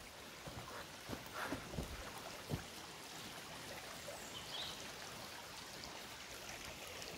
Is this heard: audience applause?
no